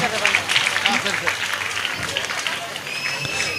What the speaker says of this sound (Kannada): ಜೋರಾದ ಚಪ್ಪಾಳೆ ಬರಬೇಕು